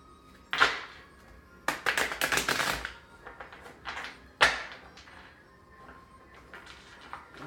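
Tarot cards being shuffled by hand in a quiet room, with two clustered bursts of riffling and a few sharp taps, close and soft.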